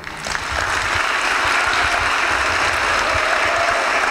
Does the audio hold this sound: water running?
no